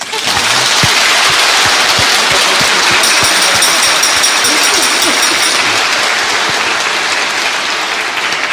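Loud, dense applause from a church audience at a Christmas carol event fills the space, a sustained wash of many hands clapping with sharp individual claps poking through, continuing strongly to the end.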